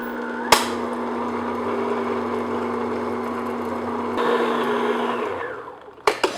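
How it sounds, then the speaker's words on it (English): Electric mixer beating butter, sugar and vanilla on medium speed for a mincemeat shortbread bar dough, a loud steady motor whir held for several seconds, pitch shifting midway, with a sharp knock at the start and clatters as it stops. "So I'm just going to beat this on medium speed just until everything's all mixed together."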